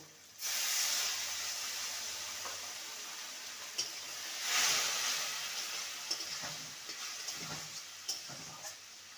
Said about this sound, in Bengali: এবারে সামান্য জল দিয়ে আমি মশলাটাকে কষিয়ে নেব